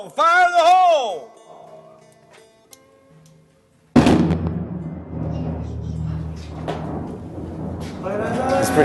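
Landmine ordnance in Afghanistan is set off in a controlled detonation: a sudden loud blast partway through, then a rumbling roll that fades, with people shouting before it and talking afterwards.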